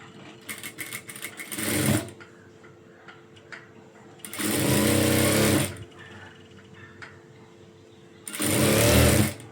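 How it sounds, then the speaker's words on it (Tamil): A sewing machine stitches a small folded hem on a blouse in three loud, steady running bursts, with quieter ticking and handling sounds in the pauses between them. "நல்லா குட்டியாக மட்டும் மடித்து தைச்சிட்டு குட்டியாக ஹெம்மிங் பண்ணிக்கலாம்."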